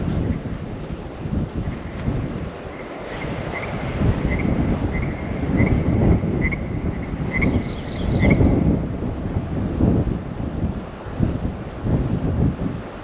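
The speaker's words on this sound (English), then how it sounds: "That wind just picked up and is just taken over." Wind gusting outdoors beside a pond, a broad continuous rushing roar that swells and buffets the microphone, with faint chirping birds in the background and no talking.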